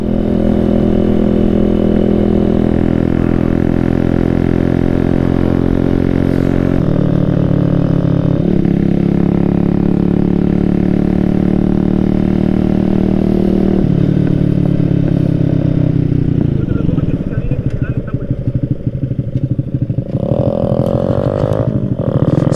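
A motorcycle rides along a road, its engine droning loud and close throughout with shifting pitch as gears change and speed varies, plus wind buffeting and some rattling toward the end.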